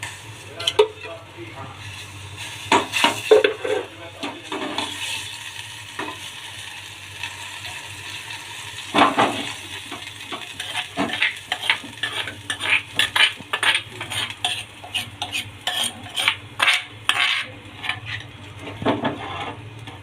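Chibran chutney is tempered with desi ghee in a pot, with frequent metallic clinks and scrapes of a spoon against the vessel over a faint sizzle, close and irregular, with a voice heard now and then.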